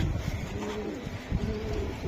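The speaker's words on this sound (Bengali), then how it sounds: "এটা হচ্ছে মিস কক্সবাজারের একটা লাইনের কবুতর।" A racing pigeon coos softly in short repeated throaty pulses, close by amid a low background hum.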